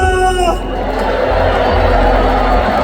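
A rally crowd in Gwangju roars and claps, a dense, loud wash of shouting and applause that fills the space after a brief amplified voice at the start.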